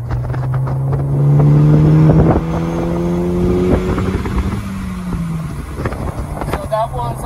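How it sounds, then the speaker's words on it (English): Ford Focus ST accelerating hard in third gear, a loud steady engine drone rising in pitch for several seconds, then easing off as the revs drop, with road noise throughout. "up ahead I'm gonna put it into third gear and give you an idea how"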